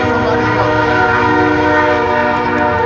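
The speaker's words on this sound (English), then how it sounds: "That's the Trump train blowing hard through Georgia right now." At a political rally in Georgia, a loud, sustained train horn sound effect blares steadily, with a rich, chord-like tone that holds without a break.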